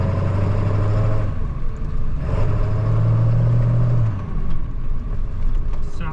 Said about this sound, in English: So we're gonna drive around a little bit.